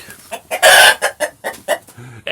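A rooster in a henhouse gives loud, close, bursting calls, a strong crow near the start followed by a run of short, choppy clucks and squawks, with no one talking over it.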